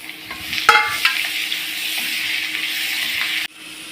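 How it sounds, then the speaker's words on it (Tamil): Green chillies and onion sauté in a hot pan, with a steady sizzle and a few sharp clinks of a spoon stirring near the start. "2 பச்சை மிளகாய், ஒரு சின்ன சைஸ் வெங்காயம் நல்லா வதக்கிக்கலாம்"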